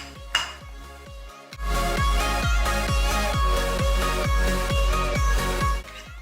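Sage and onion stuffing mix being stirred in a bowl, a steady rhythmic series of scraping, clinking strokes of a utensil against the bowl, close and alone.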